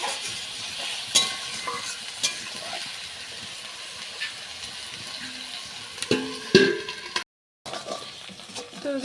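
Snails and potatoes sizzle in a hot pan while being stirred, a steady frying hiss broken by scraping utensil knocks and clatters, with a brief silent gap near the end.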